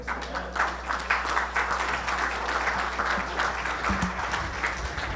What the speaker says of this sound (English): give me another round of applause for Vince Palamara.